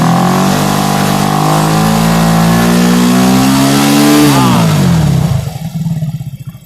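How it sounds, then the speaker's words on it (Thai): A Benelli TNT motorcycle with a charging-system fault revs loudly and steadily up to a peak, then the engine drops back to a lumpy idle near the end. "ลองเร่งเครื่อง อ่ะเร่งไปเลยครับ"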